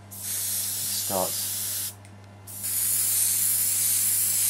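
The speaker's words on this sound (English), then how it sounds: "You see, as I'm spraying it on, it" Skin-colour paint sprayed from an airbrush onto a life cast, a close, steady hiss that breaks off briefly and then resumes, with a short spoken word near the start.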